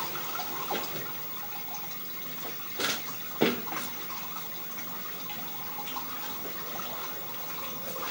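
Water runs through a household drain line fed from a utility room, a faint, continuous trickle with occasional louder gurgles and splashes heard alone.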